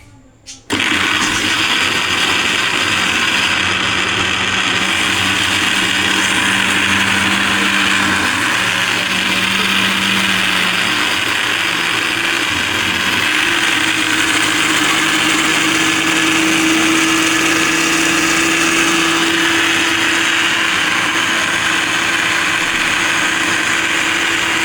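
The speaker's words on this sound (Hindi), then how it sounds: "आज मैंने सोचा कि मैं अदरक लहसुन जो है ना वो इसके अंदर पीस लूँ मशीन के अंदर" An electric kitchen grinder churns ginger and garlic in a home kitchen, a steady loud motor whir running nearly continuously for about 24 seconds after a brief start, with a slight shift in pitch partway through.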